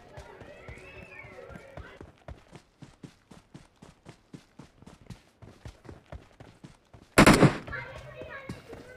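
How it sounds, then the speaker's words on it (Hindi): Gunfire in a PUBG Mobile match, coming from teammates near a blue house: quick footsteps patter in a steady run, then a sharp loud burst of shots crashes in near the end, with game audio around. "मतलब फायरिंग का साइन आ रहा है वहाँ से"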